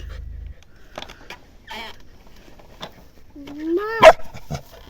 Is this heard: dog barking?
yes